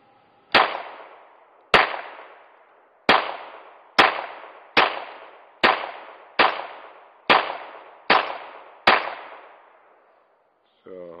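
Nine loud, sharp gunshots from a handgun fitted with a red dot sight, fired one by one at a steady pace of about one per second, each with a short ringing echo.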